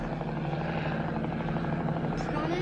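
Army helicopter flying overhead in an action film, a loud, continuous rotor thrum with steady chopping pulses that fills the whole clip without pause.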